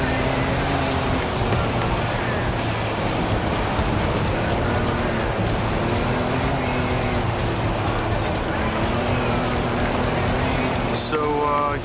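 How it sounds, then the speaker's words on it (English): A sandstorm roars around a Volkswagen being driven through the Mexican desert in Forza Horizon, a loud, unbroken rush of gritty noise like heavy rain, with the car's engine droning faintly beneath. "you're literally inside a sandstorm now"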